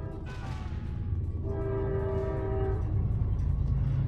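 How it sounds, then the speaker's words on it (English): A train passes close to a house, steady rumbling rail noise with a sustained horn tone in the middle, loud throughout and with no talk over it. "Don't mind the train."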